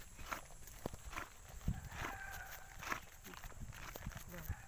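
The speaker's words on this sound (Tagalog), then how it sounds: "Talagang lumakad agad yung kabayo" A horse walks off carrying riders, with soft scattered hoof steps and some rustling, fairly quiet, while people talk.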